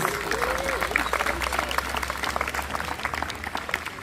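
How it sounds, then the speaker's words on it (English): An audience applauds an award-winning 7th and 8th grade choral group at a school moving-on ceremony, steady dense clapping throughout with a faint voice and crowd murmur underneath. "Another round of applause for them, please."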